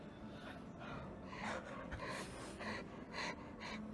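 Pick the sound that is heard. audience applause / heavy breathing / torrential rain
heavy breathing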